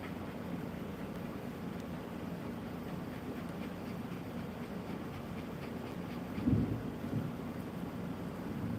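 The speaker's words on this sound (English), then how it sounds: "It's a thundering and a lightning here." A low continuous rumble of thunder rolls through a thunderstorm, steady and distant in feel, with one brief louder swell partway through and no talking.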